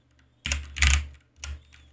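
Typing on a computer keyboard, three distinct bursts of keystrokes with brief pauses between, close and fairly loud with no talking.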